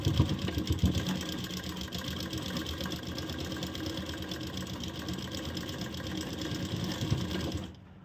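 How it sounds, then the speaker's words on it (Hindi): A sewing machine stitches a double seam on a pocket, its motor whirring continuously and loudly at close range for nearly the whole stretch before winding down at the very end, with no talking. "यहाँ हम डबल सिलाई चलाएंगे।"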